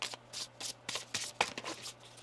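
Tarot cards being shuffled by hand, a quick run of soft papery riffles and taps, close and fairly quiet, with no voices.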